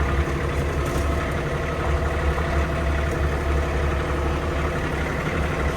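A farm forklift engine idles steadily and close by, a continuous low rumble with a constant, even level and no talk over it.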